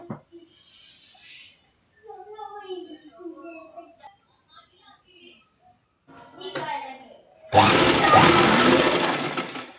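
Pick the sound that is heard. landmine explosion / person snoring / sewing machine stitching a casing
sewing machine stitching a casing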